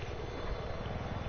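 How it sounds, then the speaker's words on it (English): An enemy helicopter flies in the game Battlefield, its rotor giving a brief, steady low throbbing drone at a moderate distance. "I think that's their chopper."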